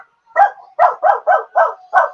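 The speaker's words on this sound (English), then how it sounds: "Oh, you have a dog." Dog barking six times in quick succession, a short burst then five evenly spaced barks, fairly close and loud, with a faint whine between them and no talking over it.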